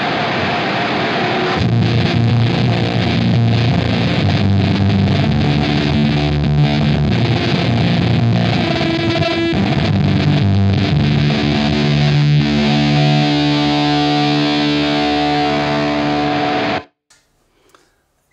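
Electric guitar through a Black Arts Toneworks Destroyer V2 distortion pedal roars with thick, noisy, saturated fuzz and sustained chords for about seventeen seconds, loud and close, then cuts off abruptly into faint noise.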